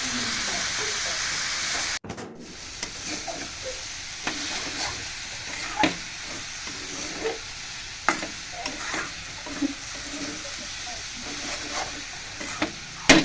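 Leafy greens (shak bhaji) fry in a home kitchen pan, a steady low sizzle broken by repeated clinks and scrapes of stirring, close and moderately loud, with no talk.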